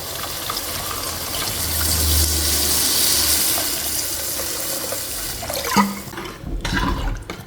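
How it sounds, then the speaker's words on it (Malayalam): Water pours from a vessel into a pot of fish curry with a loud, continuous rushing gush that swells and then tapers, ending with a couple of knocks and a low rumble. "ഇനി നമുക്ക് ആവശ്യത്തിന് വെള്ളം ഒഴിച്ചു കൊടുക്കാം"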